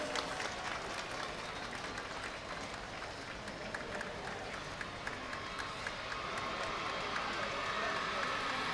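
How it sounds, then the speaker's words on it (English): An outdoor crowd at an Independence Day celebration applauds, a broad, steady patter of many hands clapping at a distance, with murmurs and cheers mixed in. "A big round of applause, dear audience."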